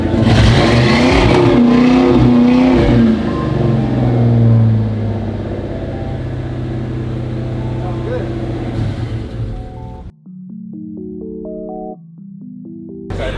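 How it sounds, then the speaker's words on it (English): A car engine roars and revs loudly up close, then settles to a lower idle, followed by electronic rising and falling tones near the end. "Give it a little rev."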